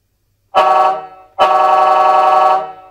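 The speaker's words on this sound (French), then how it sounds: "Donc ça, voilà, klaxon." Horn of a Tamiya Mercedes-Benz Actros 3363 RC model truck sounds in two electronic blasts, a short one followed by a longer sustained tone, loud and close with no talking.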